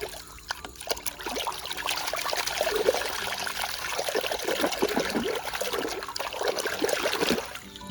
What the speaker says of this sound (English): let's wash it now.